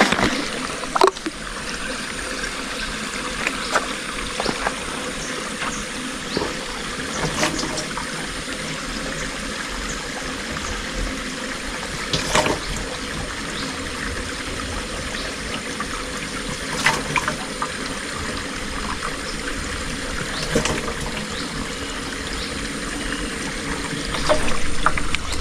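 Water is poured and trickles steadily into a foliar fertilizer spray mix for fruiting plants, a continuous close splashing stream with occasional sharp knocks and clinks throughout.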